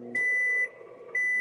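A microwave oven gives two long, loud electronic beeps close by, separated by a brief quiet gap.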